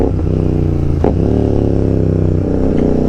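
A motorcycle fitted with a custom-built exhaust runs close by, its loud, steady engine note holding throughout, with a brief throttle blip around the one-second mark.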